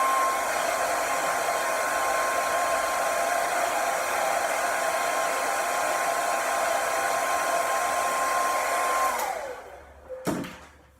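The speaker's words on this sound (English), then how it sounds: "Then I dry with the hairdryer" A hair dryer on cold air blows steadily and loudly with a constant whine on a hair system, then switches off near the end, its motor winding down before a brief clunk.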